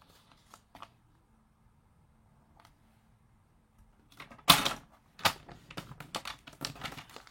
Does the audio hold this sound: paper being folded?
yes